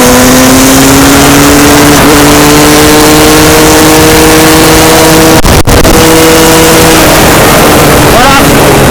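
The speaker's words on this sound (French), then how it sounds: "Je vais vous montrer comment ça fait quand ça accélère." A KTM 300 EXC two-stroke supermoto motorcycle accelerates hard, its loud, close engine note rising steadily in pitch through the gears with a brief break midway, then climbing again.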